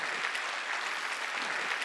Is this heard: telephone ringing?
no